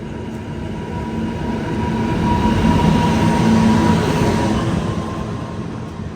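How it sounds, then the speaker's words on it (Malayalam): A train rumbles into a station, its steady roar building to a peak midway and then easing, with faint metallic wheel tones. "ട്രെയിൻ ഇതാ വന്നിരിക്കുകയാണ്."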